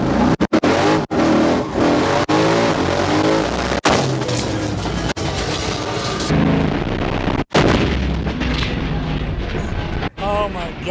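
A 1978 Ford F-150 with a Procharger P1, its bed blown off, roars through a burnout with loud engine blasts and sharp bangs at a car show, while people talk nearby.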